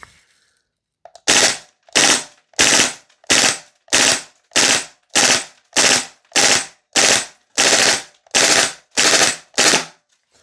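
An MP9 gas blowback airsoft gun fires on full auto in about fourteen evenly spaced loud, close bursts. Each burst is a rapid rattling string of shots, with short silent gaps between them and no voices.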